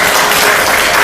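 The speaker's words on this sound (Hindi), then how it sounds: "आप बजा लो जो भी ताली बजा लो।" Dense audience applause with steady clapping from a crowd, loud and continuous throughout the brief moment.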